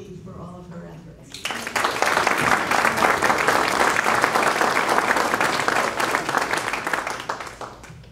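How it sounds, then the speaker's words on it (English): A brief murmur of voices gives way to loud, sustained audience applause at a memorial scholarship award event, a thick even roar of many hands that holds steady and tapers slightly near the end. "I think we deserve a round of applause for Kathy for all of her efforts"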